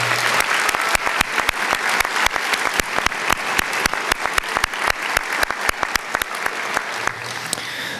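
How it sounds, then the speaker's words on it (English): Steady, enthusiastic audience applause at a high school National Honor Society induction ceremony, a dense patter of many hands clapping continuously in a hall, fairly close and loud, with no speech. "deserve a round of applause for coordinating this night"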